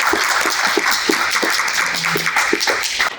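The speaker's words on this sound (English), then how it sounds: "Give them a round of applause." A university business school audience gives a round of applause to visiting alumni, with many hands clapping in a dense, steady patter that lasts a few seconds in an indoor room.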